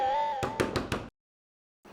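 Four sharp, evenly spaced knocks strike a door in quick succession after a brief tone, followed by silence.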